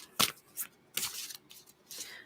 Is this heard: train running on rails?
no